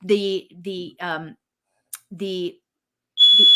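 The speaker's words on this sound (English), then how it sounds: "My fire alarm just started going off." A home fire alarm sounds with shrill electronic beeps, the loudest sustained tone arriving at the end, while a person talks in short bursts around it.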